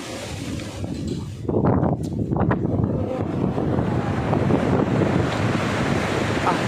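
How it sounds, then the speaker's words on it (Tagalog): Rough sea waves surging and breaking near a boat off Barangay Lubayat, Real, Quezon, a steady loud roar of surf with heavy wind noise buffeting the microphone throughout. "Ganda rito mga bali, kaso nga lang talaga maalon"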